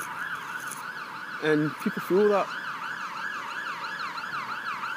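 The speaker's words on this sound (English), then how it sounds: "as the siren's gone in central London" An emergency vehicle siren wails in central London, a steady rising-and-falling tone in the distance that continues behind someone speaking briefly.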